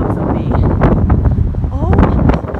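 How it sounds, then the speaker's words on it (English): Strong wind gusts buffet the microphone outdoors on a New York City street, a loud, steady roar with flutters and rumbles throughout. "Oh, it is so windy."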